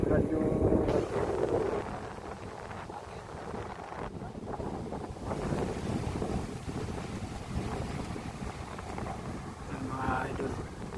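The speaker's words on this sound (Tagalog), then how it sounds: "Grabe lakas ng hangin mga idol." Strong wind buffets the microphone outdoors near a cement-making site, producing a heavy, rumbling gust noise that swells and eases throughout, with someone talking under it.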